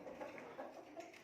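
Qutni and Brahma breed hens in a cramped backyard poultry pen give soft, repeated clucks and low murmurs, close by and fairly faint, with a few brighter chirps mixed in and no talking.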